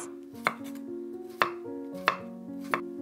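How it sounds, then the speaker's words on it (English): Fresh coconut flesh, peeled and rinsed, being cut into small pieces with a knife on a board: four sharp chopping knocks at irregular intervals over a quiet, ringing background, no voices. "Rinse the flesh and cut it into small pieces."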